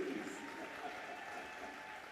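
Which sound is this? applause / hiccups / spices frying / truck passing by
applause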